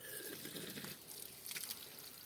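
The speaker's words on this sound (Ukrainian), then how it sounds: "Зараз у нас є електроенергія, насос працює, дивіться." Water runs from a household tap fed by an electric pump, a faint, steady trickle with small splashes and no voices.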